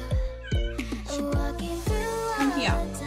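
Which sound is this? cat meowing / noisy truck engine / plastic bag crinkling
cat meowing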